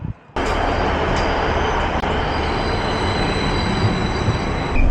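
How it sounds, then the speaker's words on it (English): A passenger train in Cardiff rolls along the rails, heard from inside a carriage as a loud, steady rumble with faint high wheel squeal, after a brief quieter moment at the start. "So, we are on the train"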